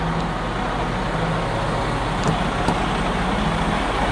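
A 2020 Freightliner Cascadia 113 semi truck's diesel engine rumbles at a steady idle, loud and close, with a couple of faint clicks partway through.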